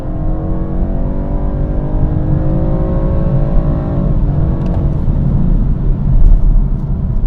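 A 2023 BMW 430i Gran Coupe engine roars as it accelerates at full throttle, pitch climbing steadily before a gear shift, then pulling again with a loud, close rumble.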